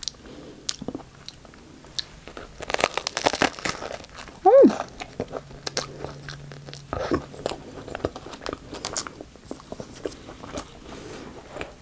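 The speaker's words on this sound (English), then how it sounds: "I think I'll just take one more bite of my banh mi." Someone biting into and chewing a Vietnamese banh mi sandwich close up, with repeated crunchy bites, wrapper crinkling and moist chewing over several seconds, plus brief background noises.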